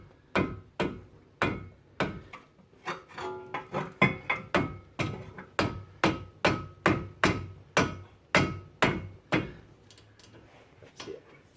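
Sharp metallic hammer blows on a brake bolt of a 2004 BMW 325xi's front brakes, about twenty loud, evenly paced strikes close by with no talking.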